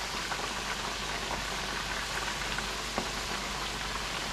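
Walleye fillets frying in butter in a pan, a loud, dense, continuous sizzle and spatter close by with no pauses and no voices.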